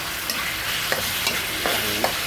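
Pork lard boiling hard in a frying pan, ready for frying soft pork cartilage, a dense continuous close sizzle with small crackles and pops throughout, no voices.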